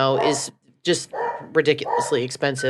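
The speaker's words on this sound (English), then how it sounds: "And our dog agrees. You can hear her in the background." A pet dog barks and yips repeatedly indoors, close and loud, interleaved with and partly over someone talking.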